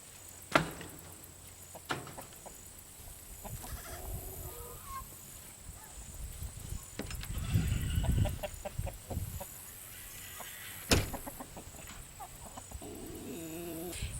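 Chickens in a backyard play yard cluck and squawk in scattered calls, some close and some farther off, with occasional sharp knocks and clatter in the background.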